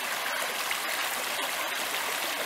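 A woodland river flows over pebbles in a constant, close, bright rush of water with fine trickling detail and no voices.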